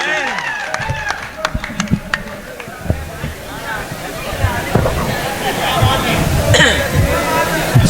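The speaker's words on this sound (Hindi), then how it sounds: "पुरजोर तालियों से इस्तकबाल।" Audience at an all-India mushaira in Malegaon, India, applauding and cheering a poet as he is called to the stage, scattered clapping mixed with crowd chatter and voices close to the microphone.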